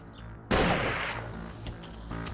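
A pipe rifle fires in the video game 7 Days to Die: one sharp, loud close gunshot that cracks out of a low background hum and leaves a long, fading tail.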